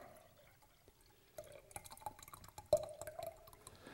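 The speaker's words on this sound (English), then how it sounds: "Now we just need to add our yeast and liquid to each jar." Yeast and liquid are poured into glass jars while home brewing, giving quiet trickling and dripping with small glassy clinks that grow busier toward the end, close by and with no talking.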